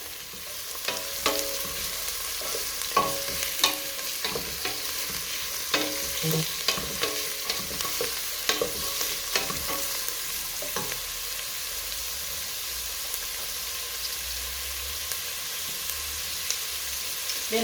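Carrots frying in a pot with peas and potatoes for a vegetarian stew give a steady sizzle broken by repeated scraping and stirring clicks from a utensil, close and fairly loud, with no speech.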